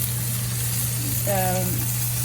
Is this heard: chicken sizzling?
yes